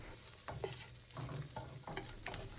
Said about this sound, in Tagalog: Kapag mainit na ito, isutay natin ang 1 whole crushed garlic.